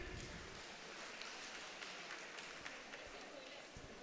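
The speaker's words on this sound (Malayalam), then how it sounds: "കയ്യടി, നല്ലൊരു കയ്യടി കൊടുക്കണം." Steady crowd applause at an Onam fest school event, a continuous dense clatter of many hands clapping, fairly distant and even in level throughout, with no pauses.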